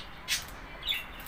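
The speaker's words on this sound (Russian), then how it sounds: "Видите, какая у нас птичка." A small pet bird in a cage near a feeder gives two brief, sharp chirps about half a second apart, clear against a quiet background, with nobody speaking.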